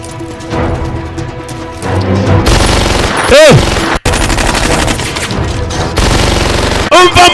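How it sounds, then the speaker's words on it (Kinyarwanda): Heavy gunfire in an American action movie scene, loud rapid machine-gun bursts and sharp single shots with booming impacts, dense and close, mixed with some voices and movie sound effects. "umva amajwi y'imbunda"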